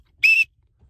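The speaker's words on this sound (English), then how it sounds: "One, you get a whistle." A coach's whistle gives one short, shrill blast lasting about a quarter second, loud and close, with near silence before and after.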